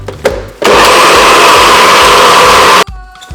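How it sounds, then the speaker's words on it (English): A blender whirs loudly and steadily for about two seconds as it purees carrot, ginger, lemon and water, with brief handling clatter before and after. "So what we're going to do, blend these three ingredients, carrot, ginger,"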